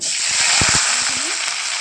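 Jackfruit pieces fry in hot oil in a wok, giving a bright steady sizzle with a few soft thumps and stirring knocks beneath it.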